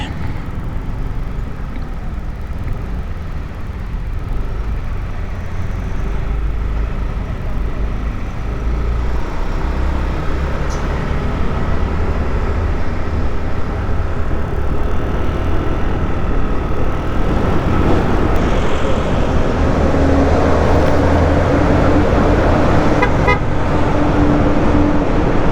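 Steady road traffic rumbles at a toll gate on Cannon Road, a continuous dense wash of engines with a few car horns tooting toward the end.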